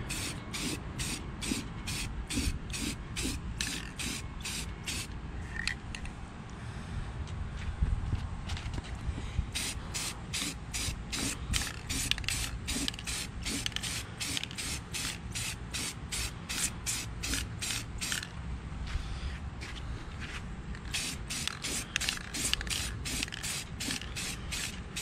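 Spray paint hissing in repeated short bursts onto Kawasaki KFX400 ATV wheels, with steady background noise between the passes and no talking.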